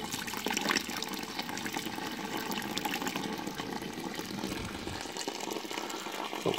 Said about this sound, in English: I will put just a little bit of more water in.